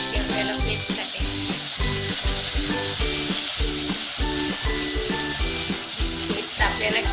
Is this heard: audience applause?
no